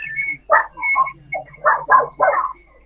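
A dog gives a series of short, yappy barks and whines in close succession, fairly near, with no one speaking.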